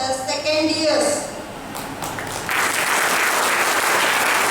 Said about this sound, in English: a round of applause for the second years